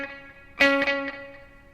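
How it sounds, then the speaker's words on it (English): Electric guitar notes ring out through a single eighth-note delay, a bright plucked attack followed by one or two quieter repeats fading into a short tail, heard alone. "Here's what the single delay, the 8th note sounds like."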